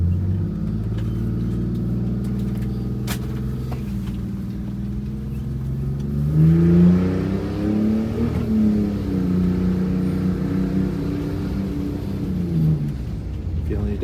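A Detroit diesel engine in a bus pulls through a rising acceleration on a test drive, its drone climbing in pitch midway and holding as a steady rumble, with people talking over it.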